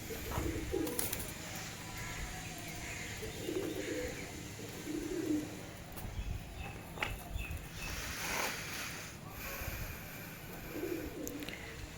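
Pet pigeons in a loft: soft low cooing phrases come and go over a steady bed of chirps and faint background noise, several coos spaced apart, close by, with no talk.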